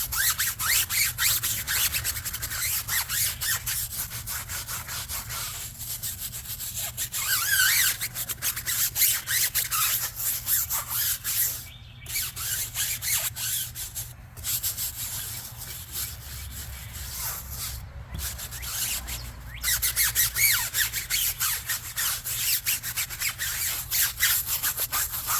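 A brush scrubs a car wheel and tire with steady, close, rasping strokes, rubbing on and on with brief pauses, and no voices.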